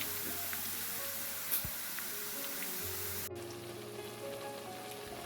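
Garlic and tempering spices sizzling in hot oil for a Bombay chili pickle, a steady close hiss that dips and shifts partway through, with no talking.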